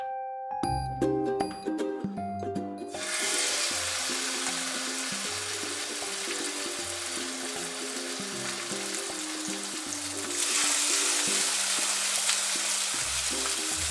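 Salmon fillet laid presentation side down in extra virgin olive oil in a hot pan, sizzling steadily and close, bursting into a loud broad fry after a quiet start, with soft music-like tones running beneath.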